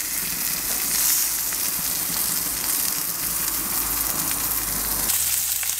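Pork bratwursts stuffed with cheddar cheese sear hard in a hot pan, giving a loud, steady sizzle that crackles throughout and shifts slightly near the end.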